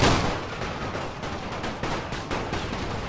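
Artillery cannons in a Total War: Napoleon battle fire repeatedly, loud overlapping booms and cracks in a steady barrage with no talking.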